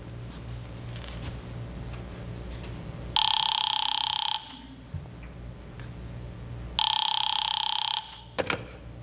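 A telephone bell rings in two long, loud bursts separated by a pause, set in an old-time radio drama, with a faint background hum and a brief click at the end.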